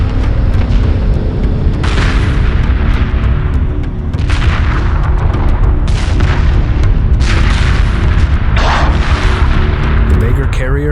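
A Vaygr carrier explodes during a space battle in Homeworld 2, deep rumbling booms and repeated blasts over a loud continuous battle roar, with radio-style voices speaking over the din.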